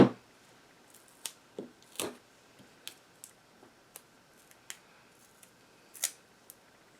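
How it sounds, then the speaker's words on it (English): Scissors snip through a strip of double-sided foam tape in sharp, close clicks, a few distinct cuts spaced irregularly over near-silence. "I'm going to cut it into a little strip"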